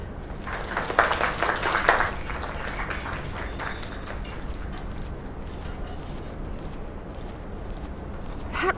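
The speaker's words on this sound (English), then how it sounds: "Another round of applause." An audience at a small gathering claps, with a louder burst of applause near the start that thins into a softer, scattered patter for the rest of the stretch.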